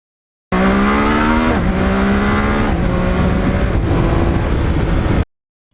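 Yamaha MT-09 motorcycle ridden at speed, its loud, steady engine note stepping down through several distinct gear changes with no talking.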